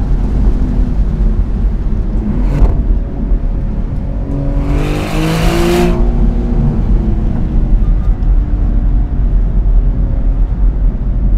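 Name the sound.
Maserati GranCabrio Trofeo accelerating in sport mode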